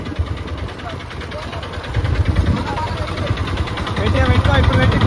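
An auto-rickshaw engine runs steadily throughout, a close, rumbling idle-like drone that grows louder in the second half, with people talking over it.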